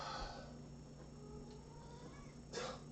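A cat at a feline rescue center gives a single short, faint meow near the end, over a quiet room hum.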